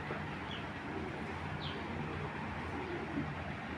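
A racing pigeon, a breeding hen, coos softly in low repeated murmurs beneath a steady background hum.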